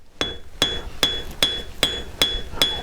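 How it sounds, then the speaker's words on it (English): Seven evenly spaced hammer blows ring out crisply as a smooth-faced forging hammer planishes sterling silver, each strike close and bright with a short metallic ring, no voices. "overlapping those hammer blows with that nice smooth surface of the forging hammer"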